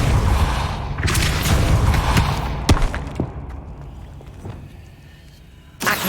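A spell cast in the Hogwarts Legacy video game: a loud magical whoosh and boom with sharp impact cracks, followed by fading rumble and a final burst near the end, no speech.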